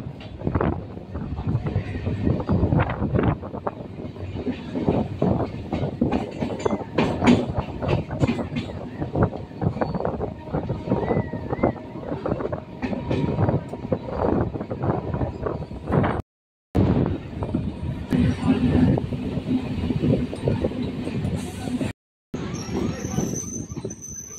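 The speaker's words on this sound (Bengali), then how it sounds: "ট্রেন এখন বাগবাজার স্টেশন ছেড়ে বেরিয়ে যাচ্ছে।" A local train on the Barrackpore to BBD Bag line pulls out of Bagbazar station, its loud, rhythmic wheel clatter and rumble filling the carriage steadily, with two brief drops to silence.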